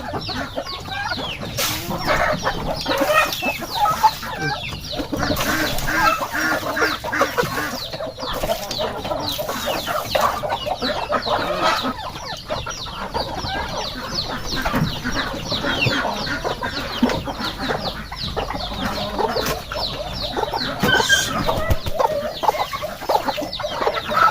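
Pet turkeys clucking and chattering continuously at close range, a busy flock calling over one another throughout with no pauses.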